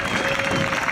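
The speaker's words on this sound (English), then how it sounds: "Give yourselves a clap." A protest crowd clapping outdoors at a demonstration in Canberra, a dense continuous patter of many hands with some voices mixed in, steady and fairly loud throughout.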